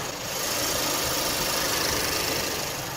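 A 2.0 gasoline engine of a 2017 family sedan idling close up with the hood open, a smooth steady hum with a faint rapid ticking rhythm, no talking.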